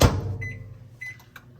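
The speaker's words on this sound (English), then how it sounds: "we're gonna put this in the microwave and do 30-second increments" A microwave oven heating chocolate runs with a low steady hum after a sharp thud at the start, with a few faint high beeps or clicks over the drone and no talk.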